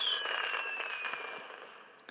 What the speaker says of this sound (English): So the building sound is some fireworks for some reason.